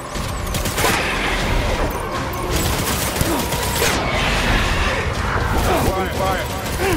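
Dense, continuous gunfire and booming blasts from a firefight in the video game Death Stranding, loud and sustained throughout with layered shots and explosions.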